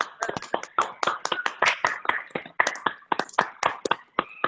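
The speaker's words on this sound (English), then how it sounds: "we can just give everybody a round of applause" Scattered hand clapping comes from attendees of a virtual awards ceremony who have unmuted themselves. It forms a steady patter of uneven, overlapping claps for about four seconds, thin and slightly compressed as if heard through laptop microphones.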